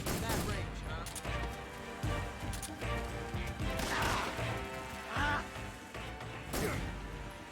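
Gunfire in the video game Metal Gear Solid 3: Snake Eater crackles in repeated loud shots and bursts through the whole stretch, mixed with impacts and game sound, while someone talks at points.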